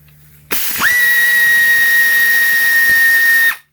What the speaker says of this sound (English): my air ratchet to do the rest of the work for me